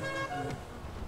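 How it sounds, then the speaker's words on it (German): A short car horn toot in Grand Theft Auto V blares, steady and tonal, then cuts off, with faint engine and road noise underneath. "Mit unserer Hupe kann uns auch nichts mehr passieren"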